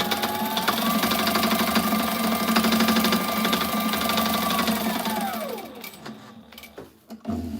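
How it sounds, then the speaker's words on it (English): A sewing machine runs fast through tactical webbing, a rapid steady mechanical chatter with a whining motor tone that winds down and stops near the end, followed by a few faint clicks. "Sew through the webbing."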